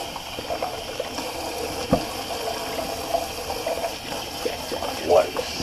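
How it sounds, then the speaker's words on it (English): A shaving brush is rinsed under running, steaming tap water, giving a steady soft splashing flow with small gurgles and a brief louder splatter near the end. "Just kind of quickly rinse out the brush there."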